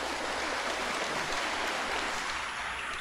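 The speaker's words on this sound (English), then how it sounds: "let us express this by clapping our hands" A church congregation claps during a novena Mass homily, a broad, even patter of many hands heard from a distance in a reverberant space, holding steady for the whole stretch.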